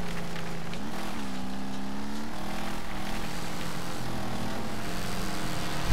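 Race car engines roar in the demolition racing video game Wreckfest, a loud continuous snarl with rising and falling revs as cars accelerate and shift, steady and close throughout.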